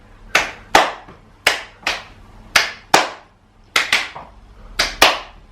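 Hands clap sharply and loudly, close by, in a loose repeating pattern of single and paired claps, while a ball is repeatedly thrown up and caught during a multi-sport activity.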